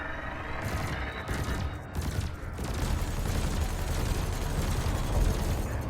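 Rapid, continuous cannon fire aimed at floating canisters during a space-combat session in Elite: Dangerous, a steady loud barrage of shots with no pauses.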